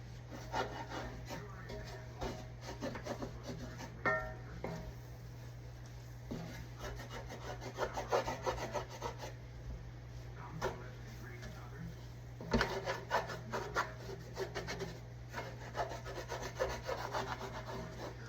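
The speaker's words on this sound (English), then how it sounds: "Now I'm going to stir it and all that stuff. Scrape the bottom, all that good stuff." A utensil stirs sautéing onions and scrapes the bottom of a pan while making cube steak with onion gravy, giving steady rough scraping strokes with faint sizzling underneath and a voice talking over it.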